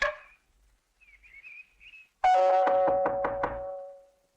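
A door is struck with a loud burst of about five quick knocks, close and ringing, after a short stretch of faint whistling tones.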